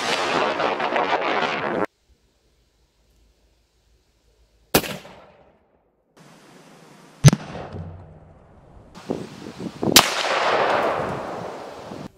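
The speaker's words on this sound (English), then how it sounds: "We're gonna shoot right here and see if the 300 goes through all the plates" A .300 magnum rifle with a 26-inch barrel fires through four steel plates, sending out sharp, loud cracks with short ringing echoes, separated by quiet gaps and low background noise.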